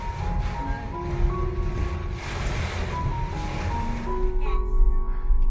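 Strong wind gusting as a typhoon approaches, roaring broadband rush and buffeting against the microphone, with faint tonal whistles and distant traffic underneath, continuous and fairly loud.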